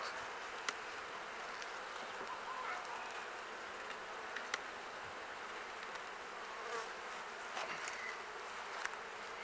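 Steady insect buzzing of honeybees droning together up close in an open hive, with occasional faint clicks and knocks of hive frames over the continuous hum.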